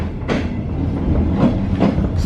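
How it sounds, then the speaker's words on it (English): An electric train passing a station on a rail journey from Belgrade to Sofia, a steady loud rumble of wheels and carriages with rhythmic clickety-clack bursts throughout, no talking. "Oh no, not diesel, an electric train, which I've been able to miss."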